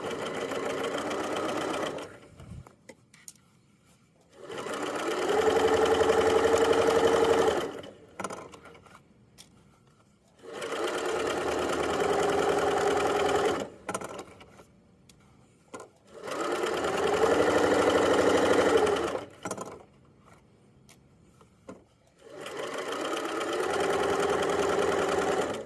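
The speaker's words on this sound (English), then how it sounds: "I'm going to go forwards 3 stitches, and then backwards 3 stitches to back stitch, and then I'll go down the rest of the seam" Sewing machine stitching the side seam of a drawstring backpack, running in several steady whirring bursts of a few seconds each, separated by short pauses, close and clear.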